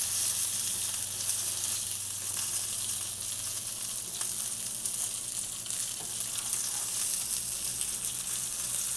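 Fish frying in a pan with spiced masala, a steady loud hiss of hot oil sizzling continuously close up, with no voices over it.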